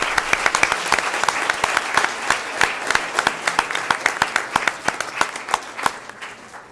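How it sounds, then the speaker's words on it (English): An audience at a school board meeting claps steadily as students leave the floor, a dense round of applause that thins out toward the end. "Let's give them one more round of applause as they exit our floor"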